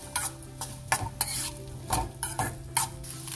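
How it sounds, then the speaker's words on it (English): Onions and curry leaves frying in a pan, an ongoing sizzle broken by repeated sharp scrapes and clinks of a spoon stirring against the metal, close up with no talk. "Allow these onions to fry properly."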